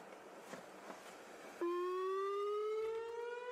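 Civil defense tornado siren sounding during severe weather, a steady rising wail with strong harmonics that starts abruptly after a faint stretch of background noise and holds loud and close to the end.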